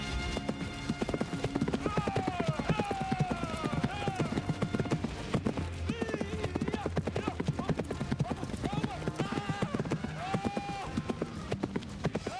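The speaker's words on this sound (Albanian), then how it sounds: "Mu tërbu kali!" Horse hooves clip-clop in a steady, rapid rhythm throughout a televised comedy sketch, with voices and whinny-like cries mixed over the clatter and a constant busy background.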